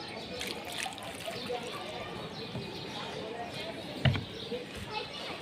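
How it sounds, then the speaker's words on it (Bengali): Water trickles from a pouring vessel onto a garden plant in hot weather, a soft, steady splashing set against outdoor background noise, with a sharper knock partway through and a voice talking over it. "এই গাছে পানি দিলাম মোটামুটিভাবে"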